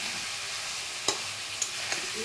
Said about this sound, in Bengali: মাছ ভাজাগুলো দেওয়ার পর মশলাটা খুব ভালো করে নাড়াচাড়া করে মাছের সঙ্গে মিশিয়ে দিতে